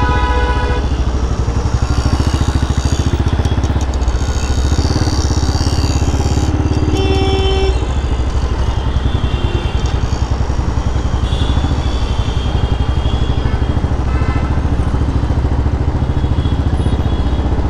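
A Royal Enfield motorcycle with a loud aftermarket silencer rides along a highway, its deep, even engine thump and exhaust rumble droning loud and unbroken throughout.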